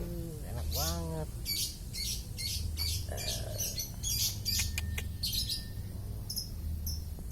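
Lovebird being bathed, giving repeated harsh squawks and short chirps close by over a low running background, with a person speaking softly partway through.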